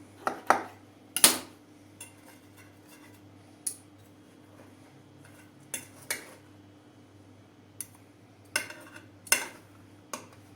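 Tava lokumu moved from a pan onto a serving plate, heard as sparse, sharp metallic clinks and scrapes of utensils against cookware, spaced irregularly over a quiet background hum.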